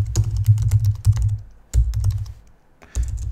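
Typing an email reply on a computer keyboard: loud, close bursts of rapid key clicks, a short pause, then more clattering keystrokes, with no voice present.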